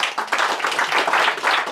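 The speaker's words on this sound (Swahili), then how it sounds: "Si tupatie Pastor Mutugi makofi mazuri" A church congregation gives a pastor a round of applause, many hands clapping together in a dense, steady burst close by that swells for nearly two seconds.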